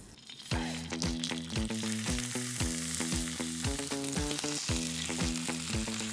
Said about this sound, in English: Now add that salmon skin down first.